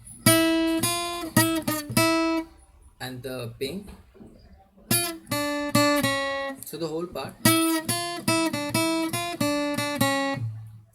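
Lead guitar playing a Ganesh Aarti melody, the devotional tune Ek Dantay Vakra-tundaya, in short clear plucked phrases with brief pauses, while someone talks in between passages.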